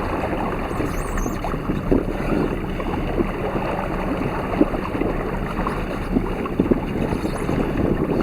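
Steady wind rushing across the microphone aboard a sailboat on a day sail near a Toronto-area beach, a constant loud roar with faint water slaps beneath.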